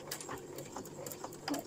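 A sewing machine backstitches in a short, steady burst of rapid stitching, heard up close for under two seconds.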